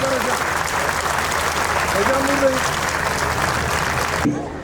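Sustained applause from a crowd at a book fair lifetime honor award presentation, steady and dense for several seconds, with a voice speaking over it before it cuts off abruptly.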